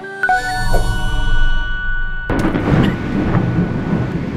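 Thunder rolls in ahead of rain outside a busy grand opening, starting as a low distant rumble and swelling into a sudden loud crack-and-rumble partway through that keeps growling to the end, with no talking over it.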